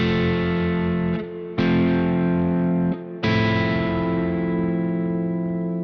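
Electric guitar strums three four-note seventh chords in turn through a lightly driven tone, each ringing a second or more before the next, the last sustaining and slowly decaying, with no voices.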